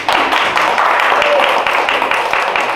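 An audience at a physics quiz show claps to welcome a volunteer to the front, a steady, fairly loud patter of many hands with distinct individual claps throughout.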